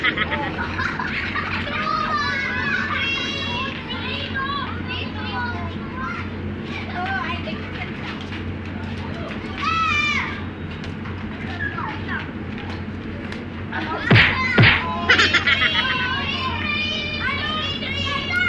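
Children's shrill voices and playful shouts carry through an outdoor street scene where they are playing, with a few louder shrieks near the end and steady background noise.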